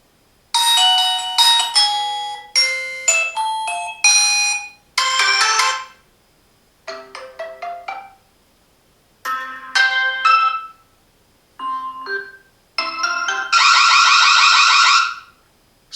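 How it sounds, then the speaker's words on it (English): A Reolink Home Hub plays a sequence of loud electronic alert tones and ringtone melodies, each short chiming pattern separated by silence, ending with a sustained harsh siren blast. "Camera has detected me and then the siren was on."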